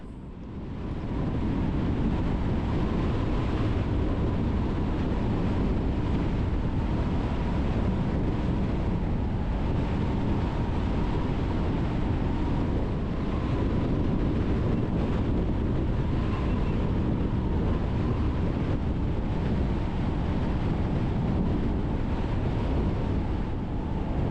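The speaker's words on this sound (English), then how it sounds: "That wind had to be easily 35 miles an hour." Strong desert wind at Joshua Tree roars continuously against the microphone, a loud, dense, unbroken rush lasting throughout with slight gusting swells and no voices.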